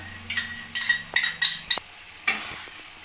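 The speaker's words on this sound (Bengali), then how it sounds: "টক দইটা দিয়ে ভালোভাবে আমি নাড়িয়ে নেব এটাকে" Yogurt being stirred into spiced green peas in a wok for dhaba-style matar paneer, a series of about six quick scraping strokes of a spoon against the metal over a soft sizzle, close and distinct, with no voice.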